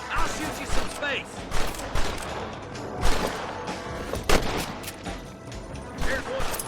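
Repeated gunshots from a shootout in the Western video game Red Dead Redemption ring out in irregular bursts, with several sharp cracks over a busy backdrop of game sound and occasional voices.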